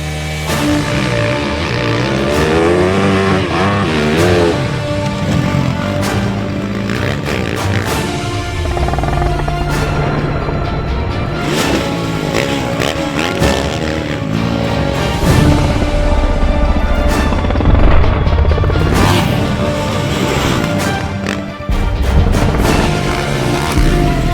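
A Yamaha YZ450FX dirt bike engine revs and roars continuously while riding hard and jumping on a motocross track, the pitch rising and falling with throttle over a steady loud drone.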